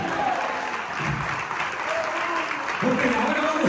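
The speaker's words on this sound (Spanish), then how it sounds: "Denle palmas al camino." Church congregation applauding during a sermon, steady sustained clapping from a crowd heard with a preacher's voice and background sound running underneath.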